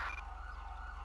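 Ambulance siren in the video game GTA V with the LSPDFR police mod, a steady wailing electronic tone over a constant low engine hum, brief and without talk.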